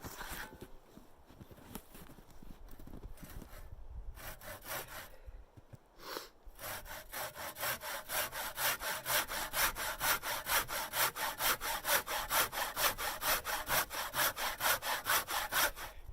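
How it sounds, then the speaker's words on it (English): A crosscut saw rips through a log by hand, strong rhythmic wooden strokes, uneven at first, then settling into a steady, close back-and-forth rasp. "this saw is a crosscut saw. And it's actually still cutting pretty well"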